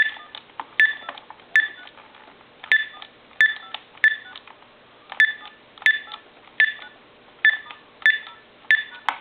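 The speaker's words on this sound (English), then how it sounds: "And then we're going to dial the numbers" Keypad tones from a Bugs Bunny Tele Mania animated talking cordless telephone ring out as a dozen crisp, evenly paced beeps, each with a faint button click, in a quiet room.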